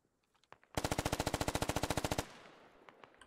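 A long automatic rifle burst of about twenty rapid, evenly spaced loud rounds in the video game Squad, preceded by a few faint scattered shots and trailing off into a fading echo.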